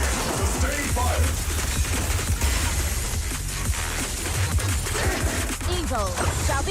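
Sustained automatic gunfire rattles without pause in the action game Zenless Zone Zero, a dense, loud barrage of shots and impacts with game character voices speaking over it.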